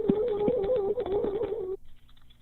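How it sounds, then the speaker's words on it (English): Quick, uneven clicks of typing on keys over a steady tonal hum, which drops away near the end, leaving quiet room tone. "She's doing a lot of typing."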